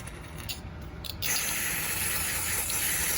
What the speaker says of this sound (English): I'll spray some brake cleaner in this lid here